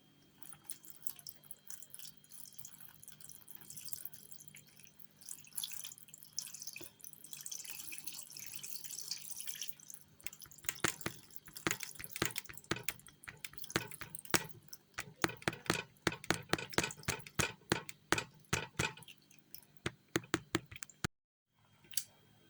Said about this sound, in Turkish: Şimdi üzerine suyunu koyacağım inşallah.